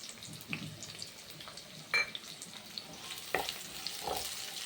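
Chopped onion with two cinnamon pieces and two cloves frying in a pan for mutton curry, a soft, steady sizzle with a few stirring clinks and scrapes, close by and moderately quiet.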